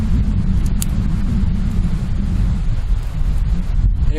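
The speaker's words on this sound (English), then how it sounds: "the wind has changed direction" Wind blowing hard across an open lake on a canoe camping trip, a loud continuous low rumble of gusts buffeting the microphone, with no other sounds standing out.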